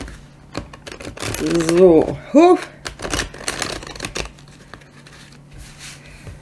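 Oracle cards being shuffled by hand, a dry papery riffling and flicking that comes in bursts, close to the mic, while someone speaks German over parts of it.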